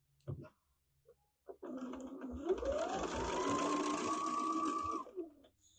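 A sewing machine stitching pre-cut fabric runs in one steady, continuous whir for a few seconds after a couple of brief clicks, close and clear with no talk.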